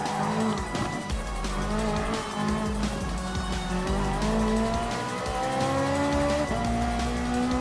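A Ferrari 458 Italia Gr.4 races in Gran Turismo Sport with Renault Sport Megane Gr.4 and Volkswagen Scirocco Gr.4 cars, its engine droning loud and steady as its pitch climbs through gear shifts, with tire squeal throughout.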